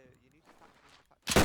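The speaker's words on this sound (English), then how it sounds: "I open fire on the infantry as well" A sudden loud burst of gunfire aimed at infantry in the military game Arma, erupting at the very end after a stretch of quiet, murmured voices.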